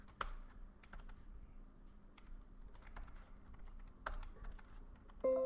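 Fingers tap on a computer keyboard to correct a backup name, scattered quiet keystrokes in short bursts with pauses between, close and alone without talk.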